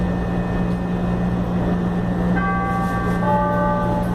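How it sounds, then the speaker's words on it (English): Chicago CTA Blue Line train bound for O'Hare at Chicago and Milwaukee, a steady rumbling hum with a rising electric motor whine as it pulls away, continuous and close. "This is a Blue Line train to O'Hare."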